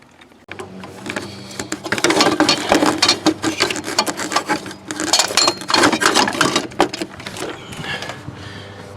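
Ratchet clicking rapidly in repeated bursts while backing out a serpentine belt tensioner bolt on a Duramax engine, close and crisp, with short pauses between strokes.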